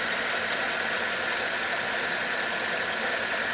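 A Chevy 5.3L V8 engine idles steadily with a possible belt noise, a dense, even hum with a faint rattling edge, close and constant with no talk.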